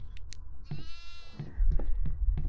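A single goat's wavering bleat in the horror video game Devour, mid-volume and fairly close, set among scattered clicks and low thumps from gameplay.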